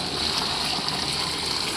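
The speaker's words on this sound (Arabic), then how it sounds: "راح نضيف المي مالتها اللي هو هذا، نضيفها عليها مي الحمص ومي اللحم" Chickpea and meat broth is poured from close by into mashed Iraqi qeema in a steady, continuous stream with no talking.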